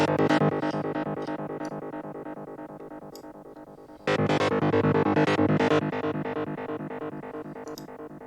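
An arpeggiated atmosphere sample plays on a synth with no attack, a bright, repeating stepped pattern that fades and then restarts loudly partway through, with possible small clicks at note starts.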